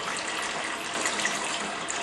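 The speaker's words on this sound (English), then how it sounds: "I'm going to fill the sink up with cold water" Cold tap water runs into a sink for home brewing, a steady close hiss and gush that holds continuously without pause.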